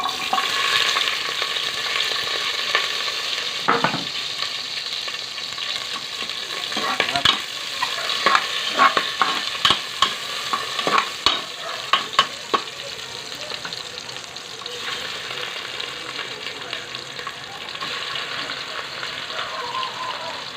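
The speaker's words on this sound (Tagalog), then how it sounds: "igigisa na natin ha" Large catfish pieces sauté in a pot for spicy adobo, a loud, continuous sizzle with a cluster of clattering stirs in the middle, then a steady fry.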